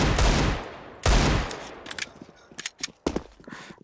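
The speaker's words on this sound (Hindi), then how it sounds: "देख सकते हो आप बाबा के हेडशॉट" Desert Eagle gunfire in CS:GO, with two loud close shots about a second apart followed by scattered softer shots and clatter, no talk.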